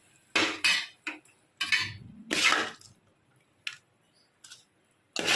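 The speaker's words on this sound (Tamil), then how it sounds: "ஊற வச்சுருக்க அரிசியை போட்டுடலாம்." Soaked rice goes into a pot of boiling water in a run of short, sharp clattering bursts separated by quiet gaps, close and fairly faint, with no talking.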